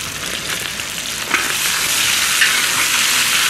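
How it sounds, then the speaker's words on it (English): Pork and sauteed garlic sizzle and fry in a discada, a steady close crackle with occasional stirring scrapes, growing slightly louder midway. "Let's add that to the pork and get it cooking."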